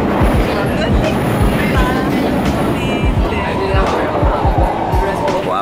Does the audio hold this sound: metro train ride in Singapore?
yes